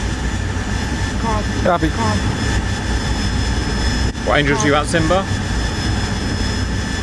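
A military jet's engine roars steadily in a simulated Falklands-era air combat game, a constant loud drone beneath radio chatter between pilots.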